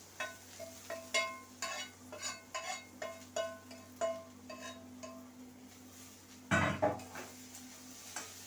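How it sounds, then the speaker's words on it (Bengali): Chopped banana stem is stirred while frying in a pan with onion and green chilli, making a run of quick, fairly close metallic spatula clinks and scrapes. A louder clatter near the end sits over a faint background sizzle. "এবার ভালো করে ওই থোড়টা ভেজে নেব"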